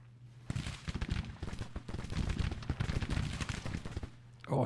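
A musket volley from Sweeney's brigade, firing Springfield rifle muskets in Grand Tactician: The Civil War, comes as a dense crackling rattle of many shots lasting several seconds, fairly close, over a low background hum.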